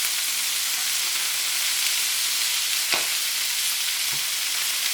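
Curry chicken wings brown in a frying pan with a continuous, loud, close sizzle, marked by a couple of brief soft knocks as pieces are turned.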